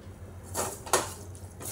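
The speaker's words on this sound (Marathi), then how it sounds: "छान ढवळून घेतली आहे मी" A spoon stirs a spiced tempering with Malvani masala, turmeric and garam masala in a pan for snake gourd and chickpea bhaji, giving three brief, faint scraping strokes against quiet background hum.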